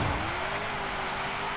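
A 2015 Ford Falcon GT F 351 engine in Forza Horizon 5, a loud, close, steady drone holding a rising pitch for a brief moment, with no talk.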